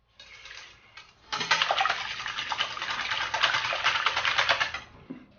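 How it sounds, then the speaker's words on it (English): A whisk beats egg whites to a froth in a bowl, with a soft start followed by a few seconds of fast, steady clattering scrapes up close that stop abruptly. "I'm going to go ahead now and whisk this until it's nice and frothy."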